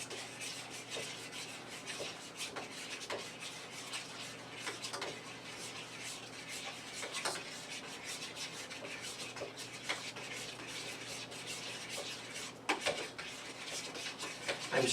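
Spoon stirring flour into chicken pot pie filling in a pan, a steady scraping rub that keeps going with a few sharper scrapes, close and fairly quiet, with no talking.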